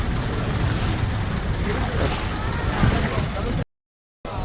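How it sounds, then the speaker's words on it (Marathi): Steady broadband rush of a speed boat passing on the sea near Elephanta, with surf, water wash and wind buffeting the microphone, loud and continuous before a brief dropout near the end. "स्पीड बोट जाता बघा"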